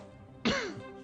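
A man gives a single harsh, throaty cough up close, sudden and loud, breaking into an otherwise quiet moment.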